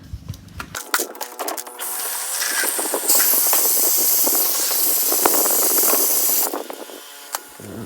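Water spray rinsing opal-bearing mining dirt at Andamooka, a steady broadband hiss that starts after a brief knock, grows louder and holds for several seconds, then fades, with scattered clicks and rattles of stones.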